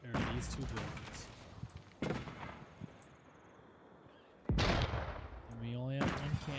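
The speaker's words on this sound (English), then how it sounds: "We only have 1 cannon, so it's going to take a while." A cannon in the Age of Empires IV strategy game pounds buildings with a few booming impacts, each followed by crumbling debris, under game sound and a talking voice.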